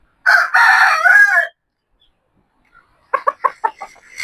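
A young gamecock rooster gives one loud, close crow lasting about a second, then after a pause a quick series of sharp clucks.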